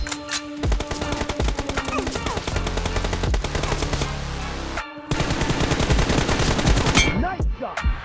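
Rapid automatic gunfire from a shooter video game, loud and continuous bursts with a brief pause near five seconds before firing resumes, layered with game music and effects.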